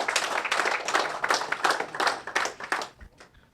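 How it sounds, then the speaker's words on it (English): An audience at a Las Vegas tech talk claps for a presenter: a burst of scattered, fairly close handclaps that thins out and fades near the end. "Round of applause to Nate."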